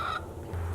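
One brief, close cluck from chickens milling around a wishing well on a farm, quick and soft against a quiet outdoor background.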